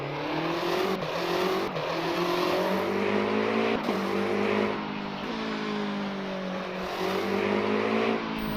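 A race car hybrid engine in a racing sim video game fires up and runs loud and continuous, revving up and down with sharp gear-shift drops and a rising whine over several seconds.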